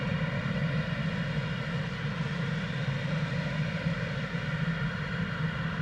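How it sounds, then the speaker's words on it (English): An American-made jet aircraft in flight over Iran gives a steady, unbroken engine roar that holds at an even loudness throughout, with no voices. "This American-made jet is being piloted by the heir to the Peacock throne of Iran"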